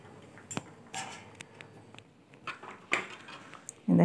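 Lid being closed onto a pressure cooker holding mutton curry, with a few light metallic clinks and clatters of cookware, ending in a louder close knock.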